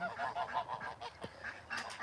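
Geese on a Northeast Texas farm honk repeatedly in a noisy, overlapping chorus of nasal calls from a nearby flock, with no talking.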